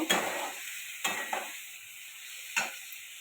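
Tomatoes fry in a pan of oil with a faint steady sizzle, broken by three or four sharp clinks and scrapes of a spoon against the pan.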